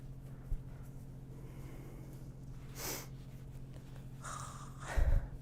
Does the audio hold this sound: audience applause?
no